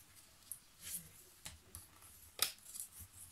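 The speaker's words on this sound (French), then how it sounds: "Et on coupe en biseau en haut." Scissors snip paper at an angle while a paper pouch is being made, giving a few crisp, close cutting clicks with quiet gaps between them.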